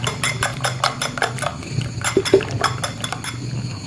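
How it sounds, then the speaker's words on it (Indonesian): Eggs seasoned with powdered broth whisked briskly in a bowl for an omelette, a fast clinking rhythm of utensil against the bowl, close and clear, with no talking. "Tinggal dikocok."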